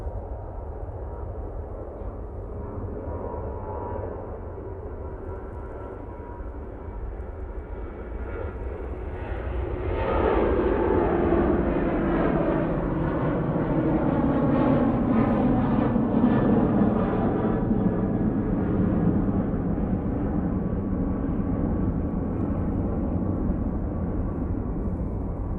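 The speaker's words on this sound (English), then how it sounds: "Right now on the roll. So this one's off to Limoges." An airliner bound for Limoges rolls down the runway on takeoff, engine noise rising sharply partway through into a loud, steady roar with whining tones, nearby and without talk.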